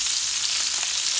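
Chicken legs sear in a hot pan with bacon fat, giving a steady, dense sizzle that stays close and even throughout, with no voices.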